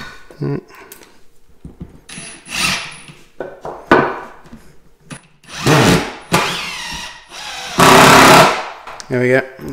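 A power drill drives screws into wooden blocking beneath a floorboard, with short whirring bursts of varying length separated by pauses and handling knocks, fairly close and loud.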